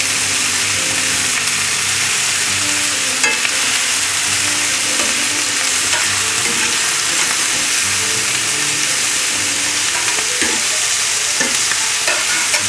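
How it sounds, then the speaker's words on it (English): Peppers stir-fry in a hot pan beside British sausages, a loud continuous sizzle broken by quick scraping and tossing clatter, spatula hits scattered throughout, with no talking. "Now it's time for the peppers to go in. Keep everything moving, give it a good old toss."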